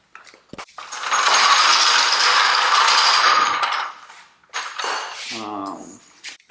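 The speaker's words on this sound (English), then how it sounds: "Now that the car's in off-road mode, I can start jacking it up." A car jack ratchets a car upward with a sustained loud clicking burst, then pauses and resumes with shorter ratchet strokes, close and alone.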